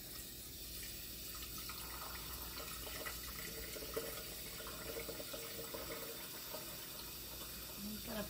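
Warm water runs steadily from a tap into a sink being filled for a turkey brine, a constant soft hiss and splash that stays fairly faint and even throughout.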